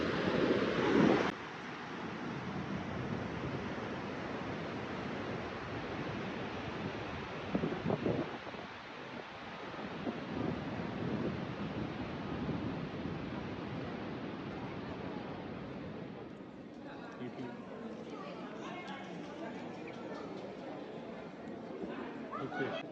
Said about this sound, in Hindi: आप इन फॉल्स का साउंड यानी कि गिरते हुए पानी का जो शोर है ना ये सुने और इन्जॉय करें